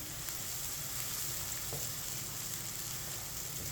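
Chopped onions with whole cumin fry steadily in hot oil in a pan over medium heat, a continuous even sizzle close by with no talking.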